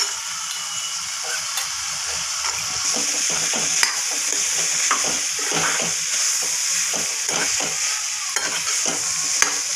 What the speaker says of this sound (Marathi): आता त्याला पण मी व्यवस्थित त्या मसाल्यांमध्ये परतून घेणार आहे